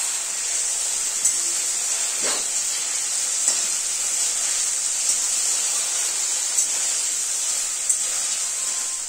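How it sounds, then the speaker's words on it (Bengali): Steady sizzling of food frying in a pan, continuous bright crackle with a few soft clinks of a utensil stirring, no voices. "তো পনিরটা প্রায় ভাজা হয়ে এসছে"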